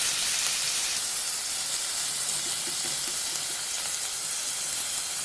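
Cauliflower sizzles steadily in a frying pan while being stirred, a continuous hissing fry with faint scraping, close and even throughout with no talking.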